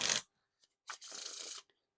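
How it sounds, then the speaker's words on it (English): A deck of Six String Classic Edition playing cards is riffle shuffled, a quick burst of flicking cards followed after a pause by a longer, even riffle and bridge cascade, close and clear in a quiet room. "Now time for the riffle shuffle or bridge shuffle."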